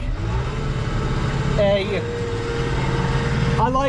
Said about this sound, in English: I got the engine slowed all the way down as low as it'll go.